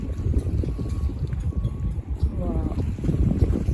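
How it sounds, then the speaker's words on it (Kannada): A steady low engine drone and water wash from an enclosed air-conditioned boat riding across Dubai Marina at dusk, with gusts of wind noise and faint background chatter. "ನಾವೀಗ ಅಲ್ಲಿ ಹೋಗಿ ಅದೇ ಬೋಟಲ್ಲಿ ರೈಡ್ ಮಾಡಿ ಹೋಗ್ತಾ ಇದ್ದೇವೆ"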